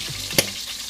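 Pork fat rendering in a hot pan with no added oil, a soft steady sizzle broken by one sharp click or scrape from stirring, close and quiet.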